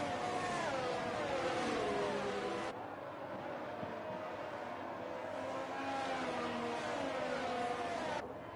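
Two Ferrari race cars accelerating off the start in a racing video game at Imola: a continuous high-pitched engine whine with rising gear sweeps, steady and moderately loud, with a brief dip before climbing again.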